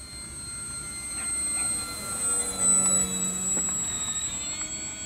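An XFly Tasman electric RC STOL bush plane with a 1500 mm wingspan and a 4S battery flies past. A thin, steady motor whine swells as it draws nearer and then fades away, with no voices.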